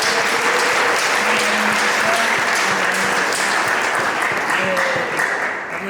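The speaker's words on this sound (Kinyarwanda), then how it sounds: "Dushimire Imana, tuyikomera amashyi" Sustained loud applause from a church congregation after choir performances, many hands clapping steadily and densely for several seconds, a few voices and faint tones rising above it before it tapers slightly at the end.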